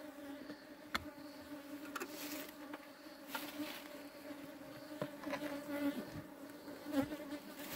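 Honeybees from a captured swarm hive buzz steadily in a dense, continuous drone, with occasional closer individual bees passing near and some faint handling noises.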